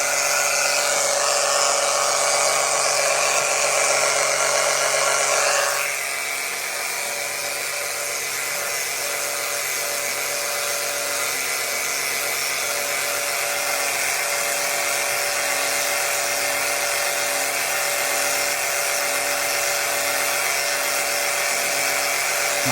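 A pump drains gearbox fluid from a Mini's 7DCT300 seven-speed dual-clutch transmission with a steady, loud whine. Partway through, the tone shifts lower and quieter, and a faint rhythmic pulsing follows. No voices.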